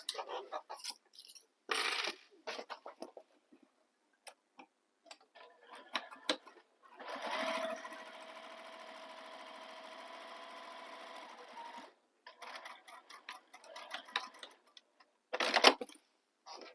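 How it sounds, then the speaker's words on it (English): A sewing machine top-stitches a bag seam along a flap in a steady run of rapid stitching, framed by bursts of clicks and handling taps before and after. "Now I'm going to top stitch this seam, but we're only going to top stitch where the flap is."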